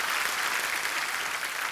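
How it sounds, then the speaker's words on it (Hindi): Studio audience applause on a TV comedy show, a steady dense wash of many hands clapping together, loud and continuous throughout with no voices over it. "ठोको ताली, ठोको ठोको जोर से।"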